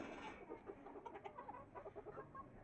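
Hens cluck in quick, soft, repeated bursts at close range, a small flock of chickens kept outdoors, heard alone without talk.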